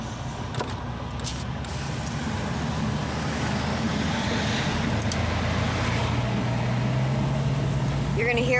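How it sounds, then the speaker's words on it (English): Steady road traffic rumbles through an open car window, a continuous wash of passing vehicles and engine noise with faint brief sounds over it. "You're gonna hear a little bit of traffic because I put the window down"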